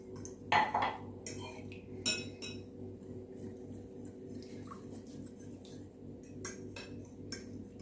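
Orange juice stirred into cornflour in a bowl for orange halwa, with a utensil clinking and scraping against the dish in scattered taps and a few sharper knocks, close by over a low steady hum.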